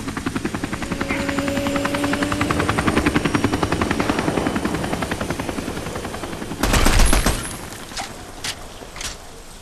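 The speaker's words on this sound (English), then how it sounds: "This is Chamin Su's chopper" Helicopter in the Army of Two Miami level, its heavy rotor beating in a fast, steady chop at close range, followed after several seconds by a loud burst and a few sharp impacts.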